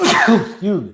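A single sneeze bursts out close by, a sharp broadband blast falling into a short voiced tail, followed by a brief spoken apology.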